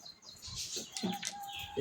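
A hen clucks in a few short bursts at close range, with other bird chirps and faint background noise around it.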